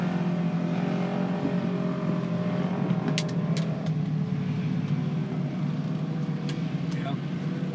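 An off-road race car engine at a Memorial Day non-turbo heat, a distant steady engine drone under a crowd, with people talking nearby and a few sharp clatters.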